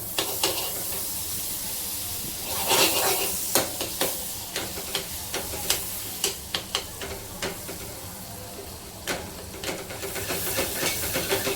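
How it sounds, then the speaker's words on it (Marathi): Amul butter melting in a hot pot on a gas stove, a constant loud sizzle and hiss overlaid with a run of sharp spatula taps and scrapes against the metal. "टोप तापलाय आणि टोपामध्ये टाकलाय ते बटर, अमूल बटर."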